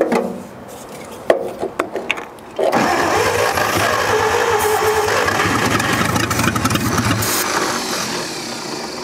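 The engine of an abandoned 1946 International truck, locked for years, cranks with a few clattering knocks, then catches and settles into a loud, rough, rattling idle close by, running unevenly for the rest of the span.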